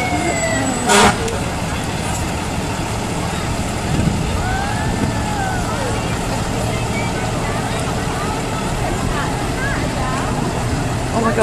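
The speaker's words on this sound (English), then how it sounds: "All the kids love to hear those sirens." A Trent Hills Fire Department fire truck in the 2016 Campbellford Christmas parade sounds its wailing siren, rising and falling sweeps that come and go at moderate distance beneath nearby crowd chatter and engine rumble.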